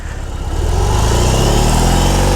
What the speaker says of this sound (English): Got this vibrating, torquey monster of an engine underneath me.